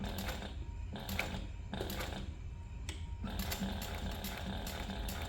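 A sewing machine top-stitching along the top seam of a crossbody and waist bag, running in several short bursts of rapid mechanical clatter separated by brief pauses, fairly quiet and close.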